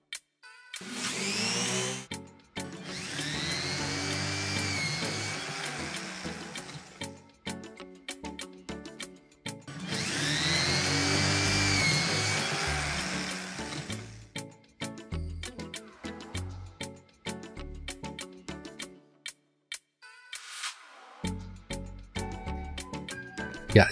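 Power riveting on a sound system hardcase, long whining bursts of an electric rivet tool alternating with quick clicks and snaps as rivets are set, close and moderately loud, with no talking.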